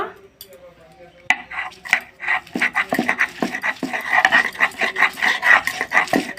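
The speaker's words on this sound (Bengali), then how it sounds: "এখন আমি এই শিলনোড়াতে বেটে নেব" Bottle gourd leaves, boiled beforehand, being ground on a shil-nora stone slab with a muller: close, repeated scraping and knocking strokes in an uneven rhythm, with no talking.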